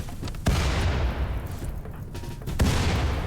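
Gunfire in the colony-building video game RimWorld, a dense burst of overlapping shots and booms with sharp cracks rising out of a rumbling, fairly loud barrage.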